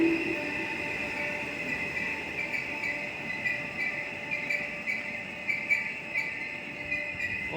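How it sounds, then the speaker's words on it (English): A train rolls toward a station platform on an Ormskirk line service, a steady rumble with a high whine and faint wheel clicks, moderately loud and continuous with no voices. "Train approaching platform 2 is Ormskirk service."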